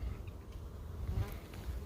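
Honey bees buzz steadily and close around open hive frames during a honey harvest, a dense continuous hum with no talking.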